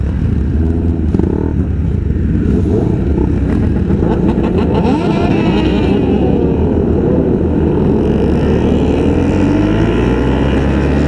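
A group of motorcycles, among them 400cc and 1000cc bikes, rumble steadily and loudly at a riders' gathering in Clark, Pampanga, with a thick continuous engine drone and some revving throughout.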